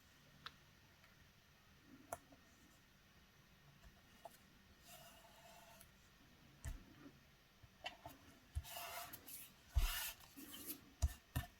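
A glue stick rubbed across a paper card for an Easter card, faint and close, with soft scattered ticks early on, then louder rubbing and rustling strokes near the end.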